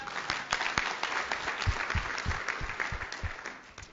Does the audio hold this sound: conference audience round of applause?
yes